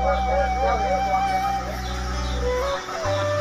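Chickens cluck around a village coop in a remote Sundanese hamlet, a steady chatter of close and scattered calls over a constant low hum.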